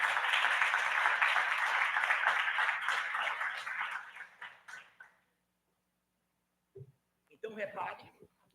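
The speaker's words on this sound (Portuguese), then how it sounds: "Quantos podem aplaudir nesse momento?" A church congregation applauding, a dense wash of clapping that holds for about four seconds then fades out into silence, followed by a few brief spoken sounds.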